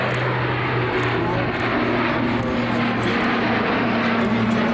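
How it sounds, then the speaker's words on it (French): A military aircraft makes a standard takeoff at Istres air base during an open day, a loud, continuous engine roar with a steady hum that holds throughout at close range. "Décollage au standard."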